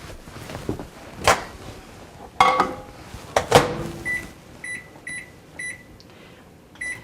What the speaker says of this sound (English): So we're going to put that in the microwave, and we want to get that melted.